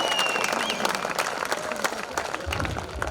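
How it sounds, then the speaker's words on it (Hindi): A crowd at a comedy and laughter show in Ujjain applauds in a dense, sustained patter of many hands, with some voices mixed in underneath. "ताली बजाओ जोरदार।"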